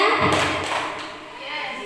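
A group of teachers claps in a call-and-response cheer during a school curriculum training session, giving a short burst of indoor claps that quickly fades as voices carry on.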